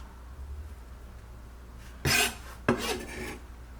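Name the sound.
mashing and scraping roasted butternut squash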